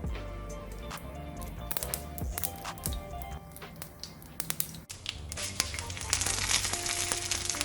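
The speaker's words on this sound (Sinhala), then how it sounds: "තෙල් ටික රත් වෙනකොට අබ ටිකක් වැඩිපුර එකතු කරනවා" Mustard seeds sizzling in hot oil for a cabbage mallum, with quiet, continuous crackling and spitting along with occasional clinks from the pan.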